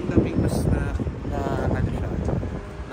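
Cold wind gusting outdoors at Dazaifu Tenmangu Shrine in Fukuoka, Japan, buffeting the microphone with a continuous low rumble and roar, with faint voices underneath.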